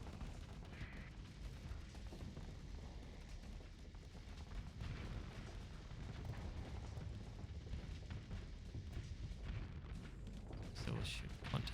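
Missiles fired in a space combat game, heard as a dense, continuous barrage of low booms and blasts with no clear gaps between them.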